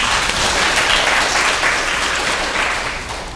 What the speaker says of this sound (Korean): 큰 박수로 맞이해주시겠습니다.